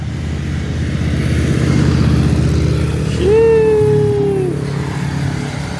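Motorcycles roar past on a street, engines revving loud and close as they sweep by, with a rising whine standing out over the steady rumble.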